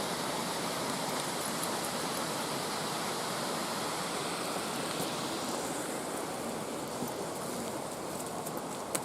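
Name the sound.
waterfall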